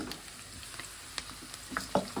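Mushrooms and onion fry in hot oil in a pan for a Kashmiri mushroom and egg bhurji, giving a steady close sizzle with a few sharper crackles and stirring clinks toward the end, and no talk.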